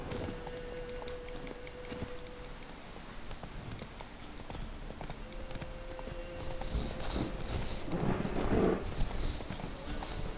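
Roach, the horse in The Witcher 3 video game, clip-clops along in a steady run of hoof beats that carries on throughout over continuous game ambience and a low tone.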